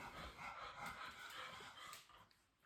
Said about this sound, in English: If you hear heavy breathing, it's just my childhood dog